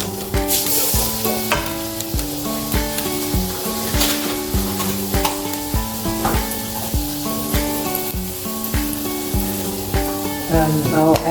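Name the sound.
garlic sizzling in olive oil in a pan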